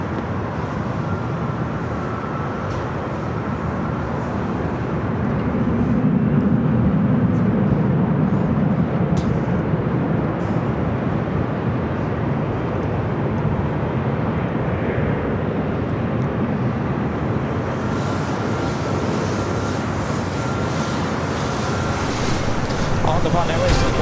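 A KLM Boeing 787-10 Dreamliner takes off from LAX, a steady broad jet roar heard from a distance outdoors, swelling slightly around the middle and holding loud throughout, with wind noise over the microphone.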